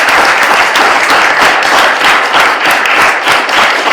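Sustained applause from the audience at a city candidate forum, dense steady clapping filling the room for about four seconds with no voices over it.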